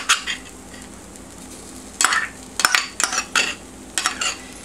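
Tomato paste being stirred into garlic and mushrooms in a pan for chili, with repeated close scraping and clinking of the utensil against the pan over a faint sizzle, in bursts after a quieter opening, with no talking.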